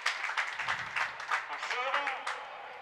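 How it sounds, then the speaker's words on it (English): A small crowd at a college four-wall handball men's final applauds a player being introduced, a short patter of scattered clapping under a voice on a public address. "And you heard the round of applause for Vic Perez from Lake Forest."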